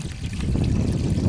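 Water pours steadily into a cattle trough, a continuous close trickling and splashing stream with low gurgling, no talk over it.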